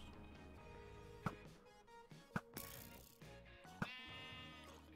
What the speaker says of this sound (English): Where'd the sheep go?